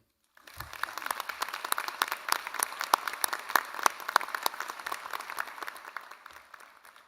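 A crowd applauds steadily at a medical school oath ceremony, dense overlapping clapping sustained from start to finish at moderate loudness, with no voices.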